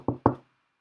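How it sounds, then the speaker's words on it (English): Two crisp knocks on a hard surface, close and fairly loud, made right in front of a dog, then silence. "I'm gonna knock."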